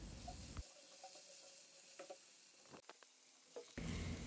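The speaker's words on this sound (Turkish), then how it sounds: "Evet, havuçların üzerine patatesleri ekleyerek kavurma işlemine devam edelim." Carrots and potatoes sautéing in a soup pot, a soft steady sizzle with scattered stirring clicks and scrapes, interrupted by a quiet gap before the frying resumes louder at the end.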